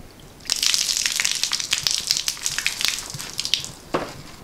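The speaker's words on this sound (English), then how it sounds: "You see, totally submerged in tap water." Wax balls are submerged and sloshed around in tap water, giving a bright, splashy, bubbling wash with irregular surges that is fairly loud and close.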